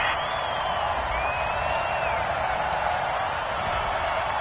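A football stadium crowd reacts angrily to a penalty flag on third down, a dense and steady roar of disapproval that stays loud and unbroken throughout.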